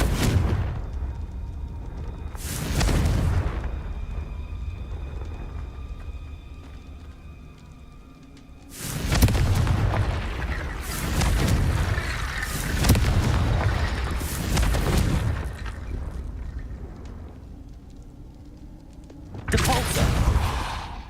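Fiery Confringo spell blasts in Hogwarts Legacy, a handful of loud booming bursts separated by quieter stretches, with softer game ambience between them.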